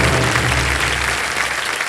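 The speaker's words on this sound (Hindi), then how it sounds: "और तालियां बजते रहें इनके लिए।" A studio audience on a televised quiz show applauds the new contestants. Dense, loud, continuous clapping fills the room and starts to fade in the last moments.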